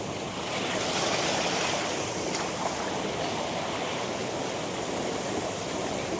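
Steady rushing, splashing stream water at Vanaparvam, Eengapuzha, Kozhikode, fills the whole clip, loud and close, mixed with wind buffeting the microphone.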